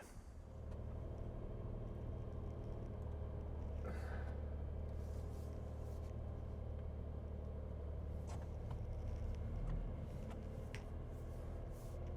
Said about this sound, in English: I'm going to whip the car in